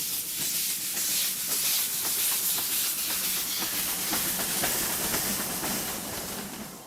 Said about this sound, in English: The steam locomotives will lead this final part of the train adventure